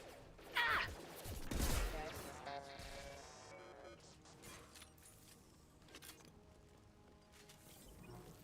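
Combat in the sci-fi shooter Mass Effect, with two sharp, heavy weapon blasts early on, the second louder and fuller. A busy, lower-level mix of battle sounds and game audio follows, with voices in the mix.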